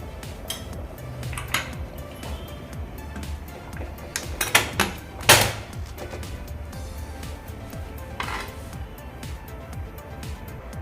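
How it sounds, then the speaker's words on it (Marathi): A pressure cooker lid is shut on a pot of soya chunk biryani: metallic clanks and clatters, with a cluster of sharp knocks near the middle and lighter taps before and after. "आता आपण कुकरचे झाकण बंद करून चार शिट्ट्या करून घेऊया"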